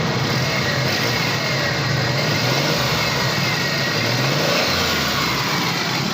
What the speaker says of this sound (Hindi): माशाल्लाह गाड़ी स्टार्ट है